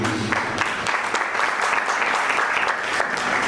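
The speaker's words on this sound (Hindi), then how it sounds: "ताली नहीं बजाओ" Steady applause from an audience at a Jain monk's sermon, dense clapping that fills the whole stretch with no pauses, fairly loud and even throughout.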